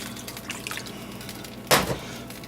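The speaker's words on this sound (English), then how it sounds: "I'm going to add a little more water" A short splash of water pouring into a pot of clam chowder, with faint dripping and kitchen background sounds.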